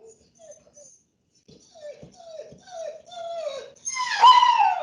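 A pet dog whimpers and whines at home, wanting to be let outside. The soft, rising whines come in a series and build into a louder, higher cry at the end, with no talk.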